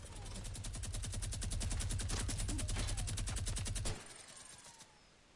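Gunfire in the video game Fortnite: a fast, regular string of rapid automatic shots over a low hum, stopping abruptly near the four-second mark and followed by quieter ambience.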